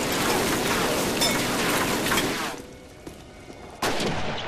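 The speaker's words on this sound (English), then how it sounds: "Oh, there's a machine gun." Dense, continuous gunfire in a Call of Duty battle, loud crackling bursts that drop to a quieter stretch before one more sharp blast near the end.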